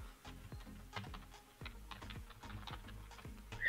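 Fast, uneven keystrokes clatter on a computer keyboard, a close and fairly quiet burst of clicks with brief pauses and no voices.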